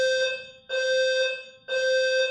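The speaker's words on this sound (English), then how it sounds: "My fire alarm just went off." A home fire alarm blares in loud, close, sustained tonal bursts, about three long beeps separated by short gaps, with no other sound.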